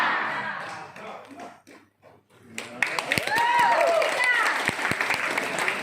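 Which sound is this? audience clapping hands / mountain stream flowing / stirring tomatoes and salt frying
audience clapping hands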